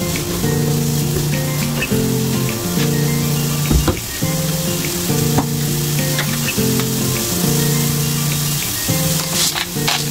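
Thinly sliced carrots sizzle and fry steadily in hot oil in a pan for a carrot omelette, a loud continuous crackle with a few brief clinks of utensils partway through.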